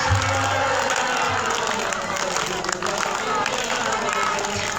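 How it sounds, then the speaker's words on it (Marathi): An audience at a religious discourse claps to welcome a guru, a continuous wash of applause running throughout with a voice speaking over it. "बाबाजींचं सगळ्यांनी टाळ्या वाजून स्वागत करा."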